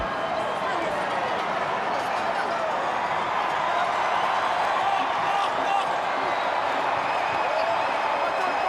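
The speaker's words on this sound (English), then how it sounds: "Crowd on their feet at Eden Park." Stadium crowd at Eden Park roaring and cheering during the Super Rugby Pacific Grand Final between the Blues and Chiefs, a dense, sustained wash of noise that stays loud and steady throughout.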